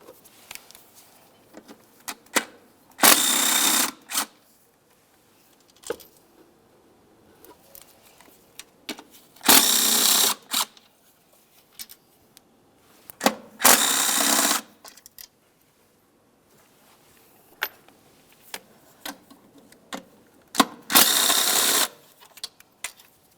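A ratchet wrench breaking loose and turning 8mm bolts that hold the knock sensor on a 2003-2011 Mercury Grand Marquis engine, heard as four loud bursts of rapid metallic clicking with quiet pauses between them.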